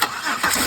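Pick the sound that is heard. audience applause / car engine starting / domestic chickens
car engine starting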